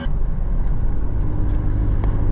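A Mitsubishi Strada pickup with a straight-pipe diesel exhaust drones loudly and close, a rough, steady low rumble as the truck drives along.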